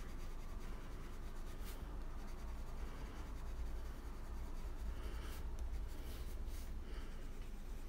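A Polychromos colored pencil in oak shade strokes lightly across paper in a quiet, continuous rubbing scratch with occasional brief louder strokes, close and faint, with no talking.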